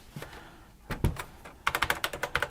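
Fast bursts of keystrokes on an old, mushy computer keyboard, with a few scattered taps and thuds first and then a quick run of close, clacky presses.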